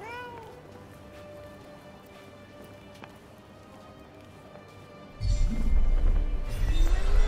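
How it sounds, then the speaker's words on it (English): A cat meows several times over quiet background ambience, then a loud rumbling bed of sound swells up underneath and carries on to the end. "A cat."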